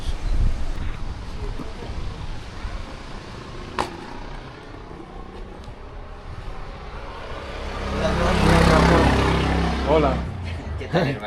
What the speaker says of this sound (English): The wind keeps kicking dust into my eyes.